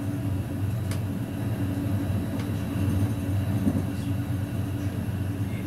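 Train carriage rumbling steadily on its way from Italy via Rome to Bari, a continuous low droning roll close and moderately loud, with a few faint clicks and squeaks over the steady track noise.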